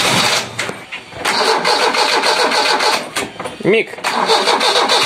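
A Dacia 1310 engine cranks and catches, then settles into a loud idle, with a short spoken word near the start.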